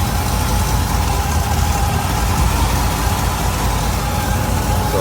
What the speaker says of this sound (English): Fuel pump still pumping away.